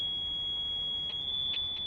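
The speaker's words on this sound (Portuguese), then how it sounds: "Alarme do prédio." A building alarm sounds a steady high-pitched electronic tone, continuous throughout with faint extra beeps near the end, with no talk over it.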